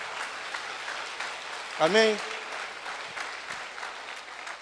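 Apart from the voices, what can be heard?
applause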